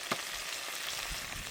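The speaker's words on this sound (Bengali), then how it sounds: "কাঁকড়াটা আমি কষাই করে নিলাম।" Crab frying in hot oil in a pan on a boat on a river, a steady close sizzle with a brief clatter near the start.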